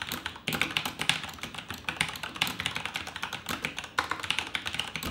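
Rapid typing on a Corsair K95 RGB Platinum mechanical keyboard, dense crisp clacks from its switches, close and steady, with a few short pauses between bursts.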